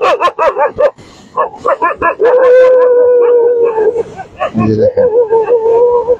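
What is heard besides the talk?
dogs howling and barking on Cox's Bazar beach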